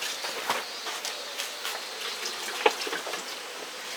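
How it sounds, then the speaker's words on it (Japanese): Water runs from a tap into a sink while food is rinsed, a steady close splashing flow with one small clink partway through and no voices. "でもう一回水を入れて洗います。"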